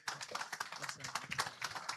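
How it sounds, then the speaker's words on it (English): Faint audience applause in a church welcoming the pastor, a quick patter of many hands clapping at a distance, steady for the short span. "A round of applause, standing ovation"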